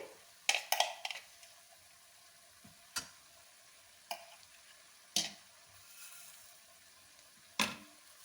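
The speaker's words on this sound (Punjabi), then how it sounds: "ਹੁਣ ਟਮਾਟਰਾਂ ਨੂੰ ਵੀ ਚੰਗੀ ਤਰ੍ਹਾਂ ਪਕਾ ਲਾਂਗੇ ਬਰੀਕ ਕੱਟੀਆਂ ਹੋਈਆਂ ਹਰੀਆਂ ਮਿਰਚਾਂ ਪਾ ਦਾਂਗੇ" Tomatoes and finely chopped green chillies fry in a pan for dhaba-style dal makhani, with a low sizzle and several sharp spatula scrapes and clinks spaced a second or two apart, close by with no talk.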